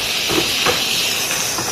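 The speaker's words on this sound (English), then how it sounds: "see all that steam that came off?" Steam hisses steadily off vegetables cooking in a hot pan, a continuous close sizzle with a few soft clatters and bumps, no one speaking.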